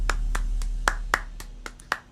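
A single person claps slowly and sparsely, about eight distinct sharp claps spaced unevenly, close and fairly quiet over a low hum.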